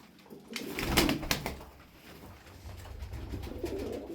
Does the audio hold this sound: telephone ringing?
no